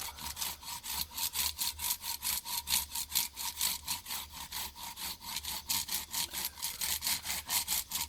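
A hand saw cuts around a wooden baton in quick, even back-and-forth strokes, a steady rasping rhythm close to the listener with no talking.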